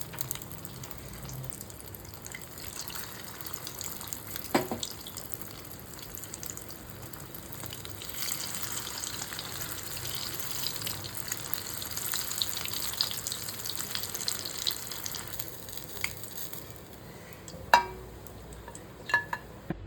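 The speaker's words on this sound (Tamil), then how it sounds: "முட்டையில் போட்டு அப்படியே டிப் பண்ணிவிட்டு அப்படியே எண்ணெயில் போட்டுக்கணும்." Egg-dipped mutton chops frying in hot oil, a continuous low sizzle that swells midway, with a few sharp clinks near the end.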